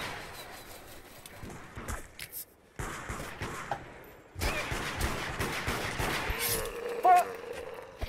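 Gunfire in a shooter video game, several bursts of rapid shots and fusillades separated by short pauses, fairly close and loud, with some voice chatter mixed in.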